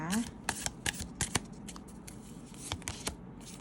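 A deck of oracle cards shuffled close by, a rapid riffling burst followed by scattered soft slaps and flicks of card edges, faint and alone without talk.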